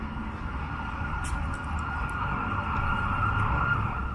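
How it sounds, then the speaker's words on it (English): Emergency siren wailing through Oakland streets amid city traffic rumble, a steady, fairly distant tone that gradually grows a little louder, with no talking over it. "I hear sirens everywhere."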